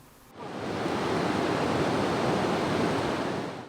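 Waterfall on the Loloa river in Kasaï central, a loud, steady roar of falling water that surges in after a brief quiet start and holds constant.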